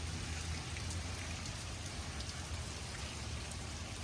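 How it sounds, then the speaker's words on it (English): Steady rain falling in Anaheim, California: an even, unbroken hiss of raindrops on surfaces with a low rumble beneath, constant in level and fairly close, with no voices. "So crazy how it's been raining for over 24 hours."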